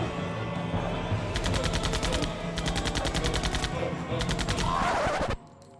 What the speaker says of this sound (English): If you're using a fully automatic weapon however